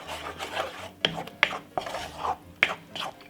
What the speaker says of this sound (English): And then I'm gonna give it a nice lovely stir like this.